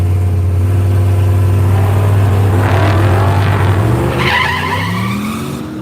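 A Chevrolet Silverado launches at Woodburn Dragstrip with a loud, close engine drone that rises in pitch as it pulls away, tire noise flaring midway. A brief burst follows as the sound trails off into the distance.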